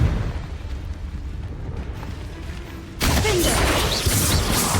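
A Confringo fire spell in Hogwarts Legacy, bursting with a sudden loud explosive whoosh partway through, over constant rumbling game ambience.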